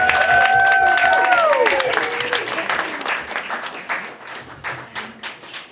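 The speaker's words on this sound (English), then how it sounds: "One more round of applause." Guests at a public art opening burst into applause, with clapping mixed with whistles and cheers at first, then thinning into scattered, fading claps from a crowd nearby.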